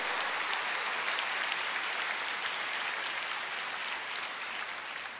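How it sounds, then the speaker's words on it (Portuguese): A church congregation applauds, a dense, steady wash of clapping that holds strongly throughout and eases only slightly toward the end, with no voice over it. "Você pode dar uma salva de palmas para Jesus?"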